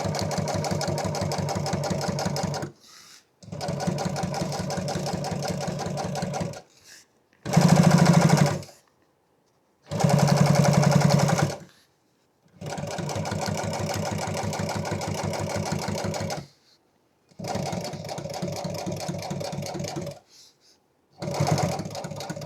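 Sewing machine stitching truck seat upholstery, running in repeated loud bursts of rapid, even chattering stitches, some several seconds long and others short, with brief silent pauses between.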